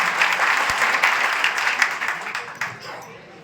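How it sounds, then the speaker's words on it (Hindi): Loud, dense applause from the audience at a youth conference and Holi gathering in Gadarwara, welcoming a minister, Rao Uday Pratap; the clapping holds steady, then thins and fades toward the end. "जोरदार तालियां बजाएं"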